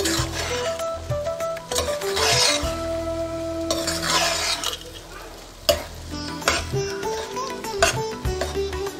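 A spoon stirs raw mango rice in a hot pan, scraping and clinking in an uneven rhythm over a soft sizzle, close and fairly loud, with a few faint words spoken.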